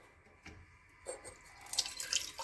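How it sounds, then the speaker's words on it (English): Water is poured into an opened autoclave hydrothermal reactor during hydrochar synthesis, starting as light drips and building into a louder, splashing trickle toward the end. "I will add certain amount of water"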